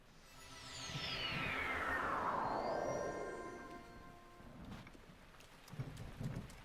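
Thunderstorm in The Legend of Zelda: Breath of the Wild, a long sweeping thunder crack that swells and rolls away over steady rain hiss, followed by scattered softer game sounds.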